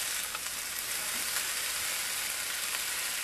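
Cottage pie filling of meat and vegetables sizzles steadily in a pan while being stirred, a continuous close crackling hiss with faint stirring scrapes and no talking.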